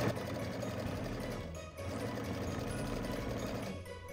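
A sewing machine runs steadily while stitching black belt pieces onto the front and back of a homemade Christmas dress. The close, continuous motor hum and needle whir pause briefly once, then carry on.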